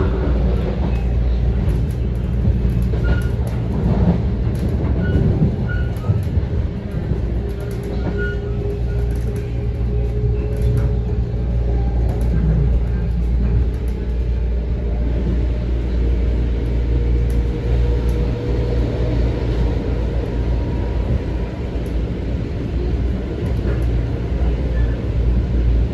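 A Metro-North M7 commuter train rides the Harlem line toward North White Plains, heard from inside the car as a loud, continuous low rumble with rail clatter and a rising motor whine, sustained for the whole stretch.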